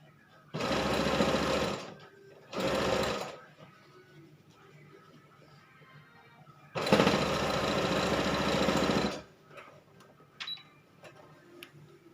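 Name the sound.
sewing machine stitching a jacket lining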